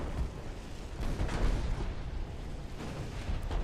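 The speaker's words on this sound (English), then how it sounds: "Big hit from one of the battleships." Heavy battleship gunfire landing hits in a USA campaign strategy video game: dense, rumbling booms and blasts rolling continuously, loud and close, with no talk over them.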